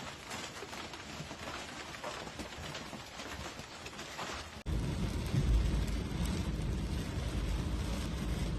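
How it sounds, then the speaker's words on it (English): A powerful thunderstorm pours torrential rain over Rome, Italy: a steady hiss of downpour suddenly jumps louder and heavier partway through, with a deep low rumble of thunder running beneath the dense, close roar. "a powerful thunderstorm swept across Rome, Italy, bringing torrential rain"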